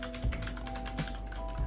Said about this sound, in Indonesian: Keyboard gue yang tadinya suaranya kayak gini